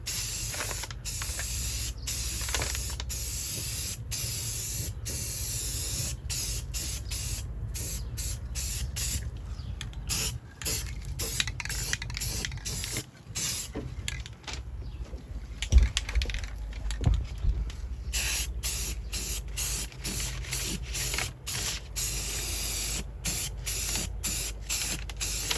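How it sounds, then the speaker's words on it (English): Aerosol spray can applying a second coat of rusty metal primer to a Freightliner FLD120 truck seat base, a steady close hiss broken by short pauses and repeated bursts, running alone without talk. "It's dry, so second coat. Rusty metal primer."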